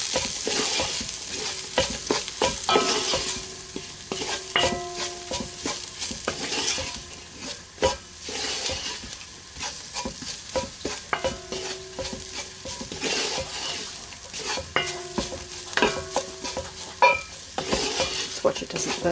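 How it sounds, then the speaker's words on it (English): Spices brown in a pot for goulash soup, sizzling loudly while a utensil stirs and scrapes against the pot in frequent irregular bursts. "I'll add these spices because we want them to sort of be browned a bit"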